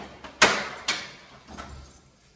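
Key clicks and door latch sounds as house keys unlock and open a door, a sharp knock-like click followed by a second click and a softer third, close and alone.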